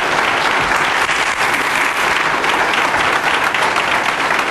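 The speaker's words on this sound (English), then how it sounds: "let's clap everybody" Audience applause fills an employee service awards ceremony, a dense and steady wash of many hands clapping at close range that holds at an even level throughout.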